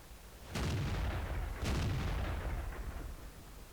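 Two heavy tank cannon shots in a tank battle video game, each a loud booming blast followed by a long rumbling decay, spaced about a second apart and heard alone.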